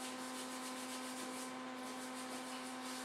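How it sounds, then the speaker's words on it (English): Hands rubbed and wiped together to clean off dry pasta dough, a soft continuous close-up rubbing and brushing under a steady low hum. "Wipe my hands off."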